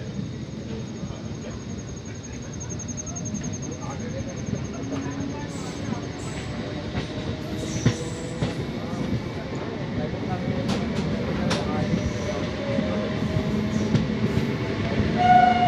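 An Indian Railways MEMU train pulls out of Whitefield, its steady rolling rumble swelling gradually with sharp metallic clicks and squeals from the wheels, heard from on board over a constant wash of noise.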